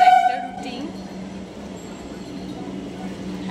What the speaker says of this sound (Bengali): আর ওই দেখো ট্রেন ঢুকছে।